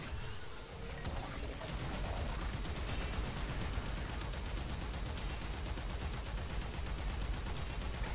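Weapon fire in the video game Warframe, a dense, continuous rapid stream of shots that starts quickly and holds steady and loud for several seconds, with no talking.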